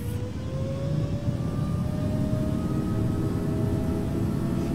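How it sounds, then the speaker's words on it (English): A video game airplane powers up for takeoff with a steady, loud engine roar and a slowly rising whine, continuous for the whole stretch with no talking. "let's do a beautiful takeoff"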